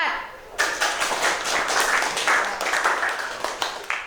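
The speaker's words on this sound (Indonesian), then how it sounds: "beri tepuk tangan untuk kelompok 4" An audience claps for a group at a classroom teaching session, a dense patter of hands that starts suddenly and holds steady for several seconds, moderately loud and close, with no voices on top.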